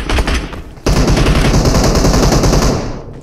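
Automatic gunfire in the PUBG Mobile battle royale game: loud, rapid bursts of machine-gun shots close by, one short burst and then a longer sustained stream that fades at the end.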